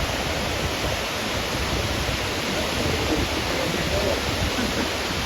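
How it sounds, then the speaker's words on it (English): Waterfall at Thousand Springs Park near Twin Falls, Idaho, pouring into a clear lake, heard as a loud, unbroken broadband roar of falling water with no pauses. "There's this beautiful waterfall and a clear blue lake"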